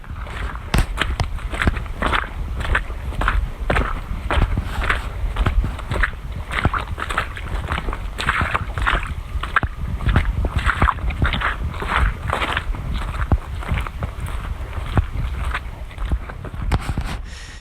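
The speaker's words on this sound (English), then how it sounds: "You've been listening to Footsteps in the Mud by the Muscatatuck River." Squelching footsteps through mud beside the Muscatatuck River, a steady loud stride of wet, sucking steps close to the microphone for the whole stretch, with wind and outdoor ambience beneath and no voices.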